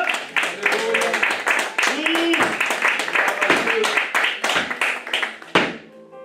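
A church congregation claps and cheers in acclamation during a worship service, fast irregular applause under loud shouting voices and a speaker talking over the crowd.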